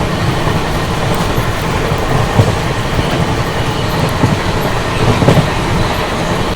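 An LTT Mumbai–Chennai Express train runs at speed, passing the Humsafar Express. A steady, loud rumble of wheels and carriages with a clickety-clack rhythm continues throughout, with no voices.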